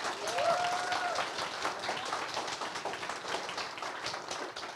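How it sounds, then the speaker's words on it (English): An audience applauds steadily for several seconds, a dense wash of clapping with a brief whistle near the start. "Give him a round of applause."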